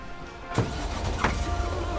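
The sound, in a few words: car driving in the video game Lake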